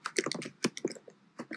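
Someone types a name on a computer keyboard while setting up a user group in admin software: a quick, irregular burst of close keystroke clicks with brief pauses between them, heard alone.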